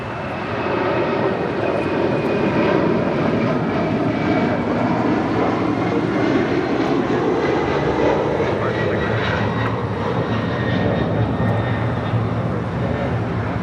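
A Delta Boeing 767-300ER bound for JFK takes off from LAX with a steady, loud jet-engine roar that holds throughout.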